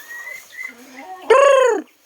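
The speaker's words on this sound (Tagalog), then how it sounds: "Ayan, kilala pa pala ako ng mga manok ko." Chickens cluck softly in the background, then a rooster lets out a loud, close crow of about half a second that cuts off abruptly.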